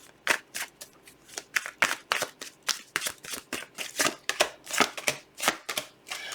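Tarot cards being shuffled in a steady run of crisp riffling bursts, close and fairly loud, with no voices over them.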